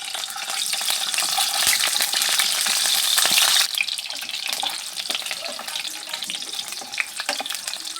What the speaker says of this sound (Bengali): ডিমগুলো কিন্তু অনেকটা তেল ছিটাছিটি করতেছে।